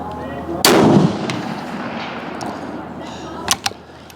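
A Swiss Martini Jagdstutzer rifle fires a single loud, sharp shot at a 300 m range, followed by a rolling echoing tail and a few faint clicks and knocks afterward.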